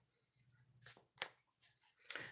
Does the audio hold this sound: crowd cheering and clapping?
no